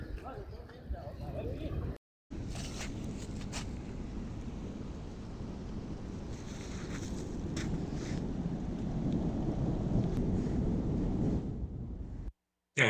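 A localized thunderstorm with hail over a coffee-growing region gives a heavy, continuous roar of rain and hail with wind buffeting the microphone. The roar swells toward the end and is broken by two short gaps of silence.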